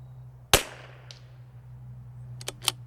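A single sharp crack from a .22LR CZ 457 rifle with an L3I barrel, fired outdoors over a steady low hum, followed by a couple of fainter distant pops.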